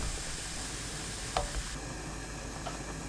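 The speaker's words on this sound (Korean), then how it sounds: "팬에 가지 넣고 센 불로 구워주세요." Flat eggplant slices, about half a centimetre thick, searing in a dry pan over high heat with no oil, giving a steady close sizzle with a few faint clicks.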